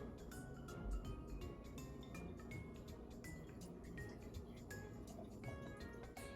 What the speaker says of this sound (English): we're going to pour the vinegar in there.